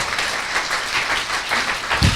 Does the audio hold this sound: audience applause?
yes